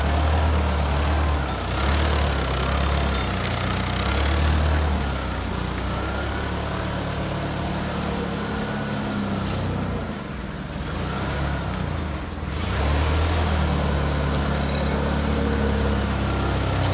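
A forklift engine runs steadily during a pre-start steering check, a loud continuous mid-pitched drone that stays even throughout, with slight dips and no voices.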